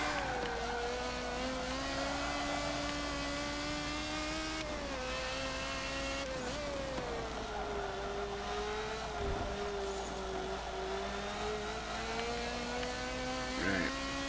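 A race car engine in a racing simulator game drones and revs continuously, its pitch sliding down and climbing back as the throttle changes, loud and close with no speech.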